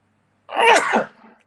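A single loud, sharp sneeze close to the microphone, a quick burst that trails off into a brief breathy tail.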